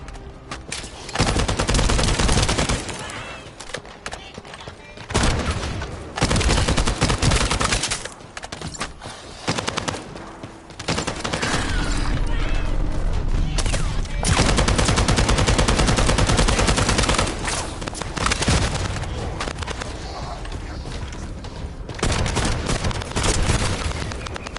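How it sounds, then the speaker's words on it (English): Sustained machine-gun fire rattles loudly in the shooter game The First Descendant, long dense bursts broken by short gaps and a few lulls, heavy and close throughout with no voices. "That stopped the gunfire."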